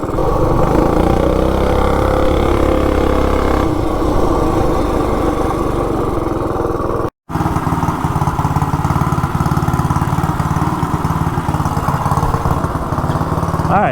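Two small gas mini bike engines, a Coleman RSV and a B200, run loud and close with a steady droning roar across the whole stretch, broken only by a brief dropout near the middle.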